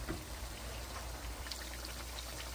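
Fresh lemon juice poured into biryani, a soft close trickle and patter of liquid over steady background hiss.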